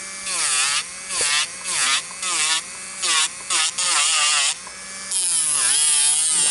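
Solid builder gel nails being filed, with repeated rough rasping strokes in uneven bursts, loud and close, ending in a longer continuous stroke.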